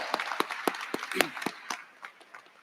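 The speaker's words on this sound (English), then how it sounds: "Graduates, let's give them all a round of applause for being here supporting you tonight." Sparse, scattered handclaps ring out in a commencement hall as an audience applauds for graduates' supporters, the individual claps irregular and fairly faint.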